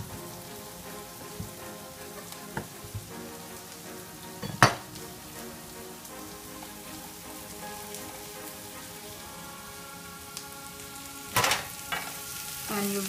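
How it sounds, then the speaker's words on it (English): Onions and portobello mushrooms fry in a pan for a patty melt, a steady soft sizzle throughout with occasional scrapes and clinks of a utensil stirring, close and without voices. "And you really need to get these onions really nice and caramelized along with the mushrooms."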